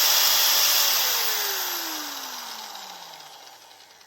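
A Harbor Freight Bauer surface conditioning tool with a coarse pad, spinning at top speed and then winding down, a loud high whine that steadily falls in pitch and fades as the motor coasts to a stop.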